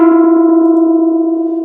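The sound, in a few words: hard clip distortion effect from delay plugin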